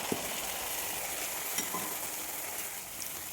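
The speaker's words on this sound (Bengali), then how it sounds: "ভালোভাবে কিন্তু পেস্টটা খানিক্ষণ নাড়তে হবে যেমন এক থেকে দেড় মিনিট" Spicy sauce paste for paneer chilli frying in a pan as it is stirred, a steady soft sizzle with a few light spoon scrapes and clinks near the start and middle.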